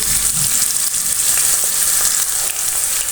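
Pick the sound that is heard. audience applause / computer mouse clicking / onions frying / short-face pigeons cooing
onions frying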